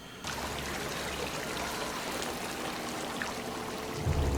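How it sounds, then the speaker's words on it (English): Steady rushing water of a film's waterfall effect from A Quiet Place (2018), a continuous broadband wash that starts abruptly and holds at an even level, with a low rumble swelling near the end. "Oh, waterfall."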